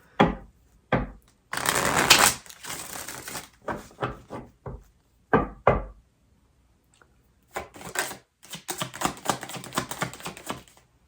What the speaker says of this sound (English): Let's open a new deck, actually. We've used so many of these cards. One shuffle.